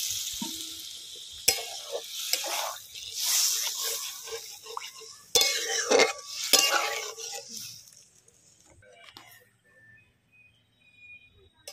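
Boiled dal water is poured into a hot pan of cooking chana dal, hissing and sizzling loudly in bursts, with spoon scrapes and stirring clatter between the surges.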